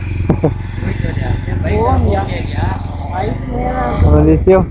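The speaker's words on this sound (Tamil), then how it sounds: "பைக் மலையிலே பைக் ஓட்டுறோம்" A motorcycle engine labors and revs uphill on a mountain under a man's speech, the motor droning steadily with rising strain near the end.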